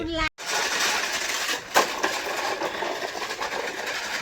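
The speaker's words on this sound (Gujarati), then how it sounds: "જેસીબી ને ટ્રેક્ટર આવી ગયા છે" A JCB excavator and a tractor arrive after rain to clear debris, their engines running steadily with a continuous mechanical drone and rumble, briefly cut out near the start, with outdoor noise throughout.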